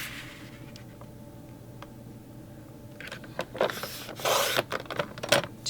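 Paper being cut into 3.5 by 5.5 inch pieces for a project booklet, with quiet scraping at first, then a burst of close, rough slicing and rasping strokes toward the end.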